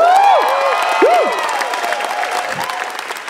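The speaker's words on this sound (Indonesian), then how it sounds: "Tepuk tangan sekali lagi dong." A stand-up comedy audience claps steadily, a dense wash of applause with a few whoops and shouts riding on top, slowly tapering off.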